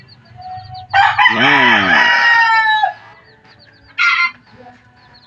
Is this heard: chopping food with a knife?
no